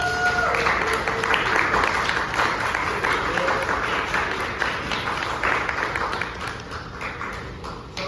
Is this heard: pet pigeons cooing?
no